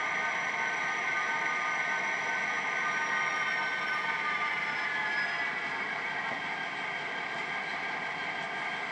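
An HO-scale Kato Union Pacific EMD GP35 model locomotive with a SoundTraxx sound decoder runs steadily, giving a continuous, even engine hum with faint high tones and no talking.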